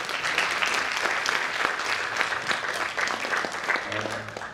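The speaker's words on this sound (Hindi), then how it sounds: "जोरदार तालियां बजाइए।" An audience applauds after a stage presentation, a full, continuous burst of clapping that holds loud and unbroken from start to finish.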